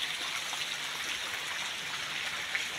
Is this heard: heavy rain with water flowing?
yes